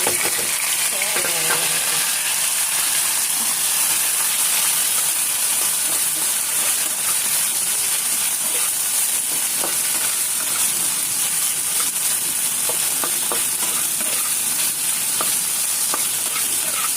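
Onions frying and being stirred in a pan for spiced potato fry, a continuous loud sizzle with scraping stir strokes throughout.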